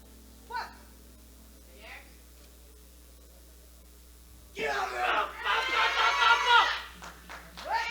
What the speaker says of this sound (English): she's shouting herself up